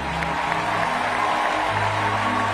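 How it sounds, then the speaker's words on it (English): Steady, sustained audience applause fills a large church gathering, dense continuous clapping with a faint crowd murmur, loud and unbroken throughout. "Keep clapping till I ask you to stop."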